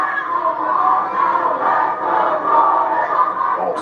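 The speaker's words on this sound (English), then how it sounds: "Oh, split crowd tonight here." A sold-out wrestling arena crowd split between two wrestlers chants loudly, a sustained roar of many voices rising and falling in rhythmic waves, filling the hall with no single voice standing out.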